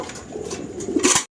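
A Syrian Shekli pigeon with white bars coos nearby, a few soft throaty calls heard clearly and alone in a short burst.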